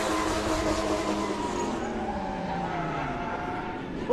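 Cars drift around the track at FuelFest, including a BMW E46 and a Mazda Miata, with loud engines holding steady and shifting in pitch as they slide. A faint tire squeal sounds near the end.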